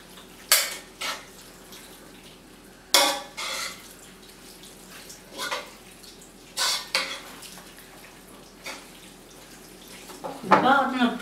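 Stuffed fish filling with lemon is mixed in a bowl with sharp, intermittent utensil clanks and scrapes against dishware, spaced a few seconds apart over a faint steady background, with a brief burst of voice near the end.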